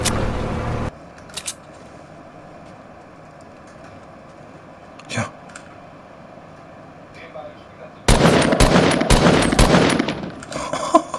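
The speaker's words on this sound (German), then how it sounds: "Zwei Schüsse gebraucht." Gunfire in the video game Fortnite: a short burst of shots at the start and a louder rapid volley near the end, with players talking in between.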